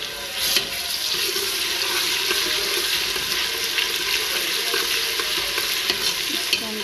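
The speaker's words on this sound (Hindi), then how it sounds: "इसको हम करेंगे फ्राई अच्छे से, ताकि स्मेल वगैरह ख़त्म हो और पक जाए।" Chopped garlic frying and being stirred in a pan of oil with onions for restaurant-style mash dal, a steady close sizzle with scraping stir strokes throughout and no talk.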